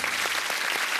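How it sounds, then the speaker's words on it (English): A studio audience at a quiz show applauds a motor show prize line-up of cars, with steady, dense clapping that carries evenly from start to finish without a break. "Oh, we're applauding the motor cars."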